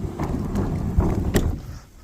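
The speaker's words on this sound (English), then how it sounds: "The wind is blowing more so now from the north" Wind in an April snowstorm blows steadily past the microphone outdoors, a low rumbling buffet with a few gusty thumps and bumps, fading slightly at the end, with no voices.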